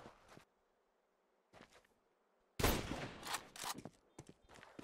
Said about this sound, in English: That's a beautiful shot with the scout there.